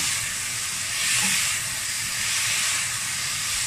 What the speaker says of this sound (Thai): ผัดให้หอมก่อนไม่ต้องรีบร้อน